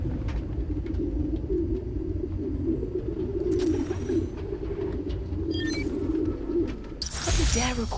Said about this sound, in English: The place was swarming with pigeons.